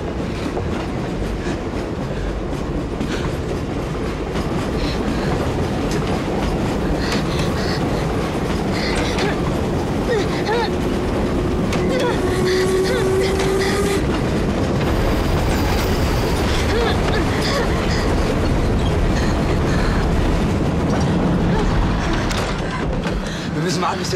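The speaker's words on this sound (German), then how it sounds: "der Zug ist zu schnell für die anderen" A fast train runs on rails, a loud continuous rumble and clatter of wheels with occasional metallic squeal, steady throughout with faint voices beneath.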